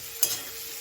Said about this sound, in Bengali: আলুগুলো একটু এর মধ্যে মশলার মধ্যে কষিয়ে নিয়ে